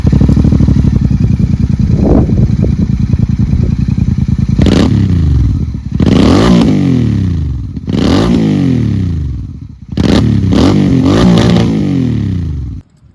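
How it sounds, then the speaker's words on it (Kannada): A Royal Enfield Continental GT 650 exhaust burbles loudly at idle, then snaps through four or five sharp revs that each rise and fall away, close up and with no talking. "ವಿತ್ DB ಕಿಲ್ಲರು ಮತ್ತು without DB killer exhaust note ಕೇಳಿಸ್ತೀನಿ"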